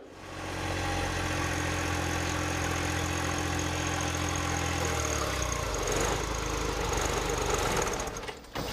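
A John Deere 2038R compact tractor runs a post hole digger attachment, giving a steady mid-pitched engine drone that changes partway through as the auger load shifts. The sound is continuous and close, with no talking.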